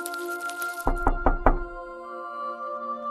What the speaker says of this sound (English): She knocked gently.